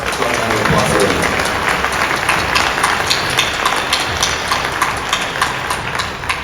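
Dense, loud applause from a conference audience at a DEFCON 31 hacker convention, a steady wash of many hands clapping throughout with no pauses.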